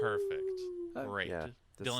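A person imitates a wolf howl with a single drawn-out, gently falling note lasting about a second, then lively talk and laughter follow close by.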